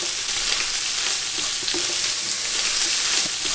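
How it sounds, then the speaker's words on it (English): Shrimp stir frying in oil in a pan, a loud, dense, continuous sizzle close up with faint stirring knocks, no voices. "We're going to add the rest of our oil and then stir fry them for about another minute."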